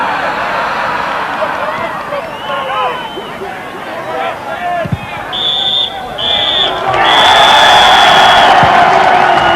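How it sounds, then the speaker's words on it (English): A football crowd at a 1991-92 FA Cup tie between Gretna and Rochdale roars as the referee's half-time whistle sounds in several shrill blasts, the noise swelling loudly near the end beneath a commentator's voice. "Good roar greets the half-time whistle"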